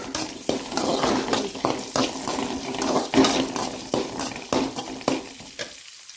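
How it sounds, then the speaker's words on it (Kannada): Mustard seeds crackling and sizzling in hot oil in a home kitchen pan, a dense run of sharp pops and spits over a constant frying hiss, close and fairly loud, easing off at the end. "ಸ್ವಲ್ಪ ಸಾಸಿವೆ ಹಾಕಿ ಚಂದ ಮಾಡಿ"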